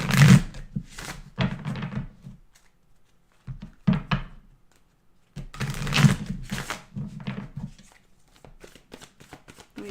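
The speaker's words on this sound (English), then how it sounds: "Let me just shuffle the cards here for my fire signs." Bursts of tarot card shuffling riffle and slap in several quick rounds separated by short pauses, close by.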